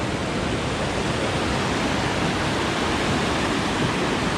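The Dry River rushes beneath a bouncing suspension bridge on a mountain trail, a loud, steady broadband roar of flowing water with no voices.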